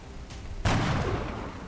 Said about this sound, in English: Let's take a normal shot at him.